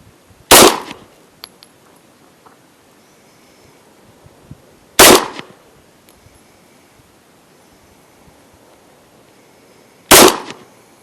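Three sharp gunshots fired from a low ready position at a shooting range, evenly spaced about five seconds apart, loud and close with brief echo tails over quiet ambience.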